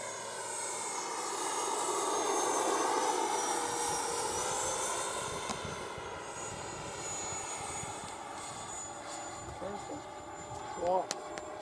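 An airplane passes overhead outdoors, a broad droning engine roar that swells early and slowly fades, with a person talking over it.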